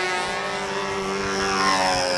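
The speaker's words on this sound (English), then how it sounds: "He's waiting for Phil Nichols' flight to finish." A model aircraft engine at a national model aviation competition holds a steady, loud, high-pitched buzzing drone from start to finish, close by and rising slightly near the end.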